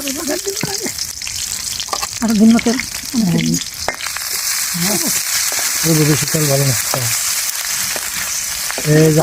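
Ginger frying in hot oil for a tempering, a loud continuous sizzle with occasional stirring, close up beneath a voice talking throughout.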